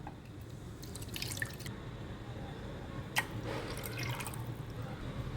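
Two cups of water are poured into a bowl for malpua batter, giving faint splashing trickles in two short bursts over a quiet background.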